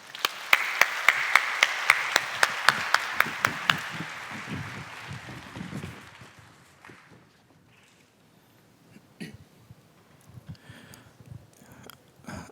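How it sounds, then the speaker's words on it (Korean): A church congregation claps together in a dense round of applause to welcome a speaker, loud at first and then thinning out and fading over several seconds into quiet room sound with a few scattered claps. "나오실 때 박수로 맞이해 주시기 바랍니다"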